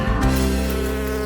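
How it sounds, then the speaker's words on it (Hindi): Loud, close bee buzzing, a steady continuous drone near a waffle topped with honey, with no voices. "ओह मधुमक्खी, तुम्हारी यहाँ जरूरत नहीं है"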